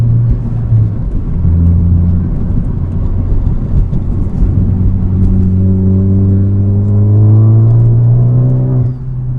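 A Ford Focus ST with an aftermarket catback exhaust runs on a dyno with a deep, droning exhaust note that climbs steadily in pitch as the engine revs rise. The sound is loud and close and continues without a break.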